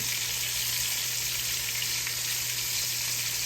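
Very thin chicken pieces frying in a pan, a steady close sizzle filling the whole stretch without a break and with no talk over it.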